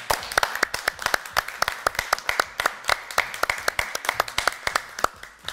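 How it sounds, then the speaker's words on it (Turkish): A studio audience on a Turkish television quiz show applauds health workers, a steady burst of many hands clapping close and loud throughout, with no voices over it. "tüm sağlıkçılarımızı dilerseniz bir alkışlayalım"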